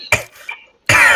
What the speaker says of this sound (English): Clear my throat, that's all.